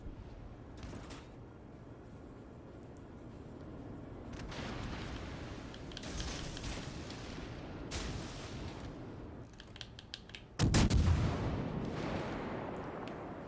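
Naval guns firing high-explosive shells in the World of Warships Legends video game: repeated muffled booms and rumbling salvos of varying strength, ending in a sudden loud, close blast with a heavy low rumble.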